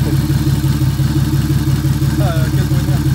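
Turbocharged BMW E36 engine running right after its first start without engine management, a steady close idle with an even low pulsing throb, faint speech briefly over it.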